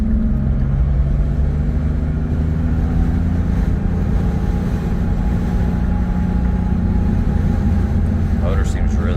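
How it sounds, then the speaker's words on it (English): A 1977 Porsche 911 Targa engine drones steadily from inside the moving car, a loud continuous low hum and rumble that holds evenly throughout with a few faint chirps near the end. "Motor seems really healthy."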